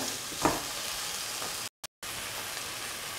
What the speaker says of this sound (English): And squash the tomatoes in between